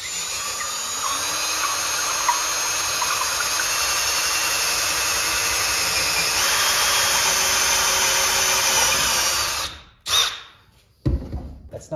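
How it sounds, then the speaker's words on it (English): A cordless drill boring slowly through scrap lumber for a barn-style table, a high steady whine held close for about ten seconds before it stops, followed by a few short bursts. "I'll take my cordless drill now and slowly drill through the rest of the way."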